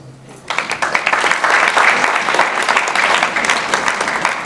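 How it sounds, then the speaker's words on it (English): An audience at a Diwali gala celebration bursts into applause, a dense clapping that swells quickly after a brief moment and continues steadily to the end. "Now please give yourself a round of applause."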